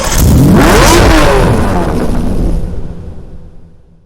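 A Lamborghini Diablo SV's V12 revs hard in the Need for Speed racing game, a loud close roar with rising engine tones that holds for a couple of seconds, then fades away into silence.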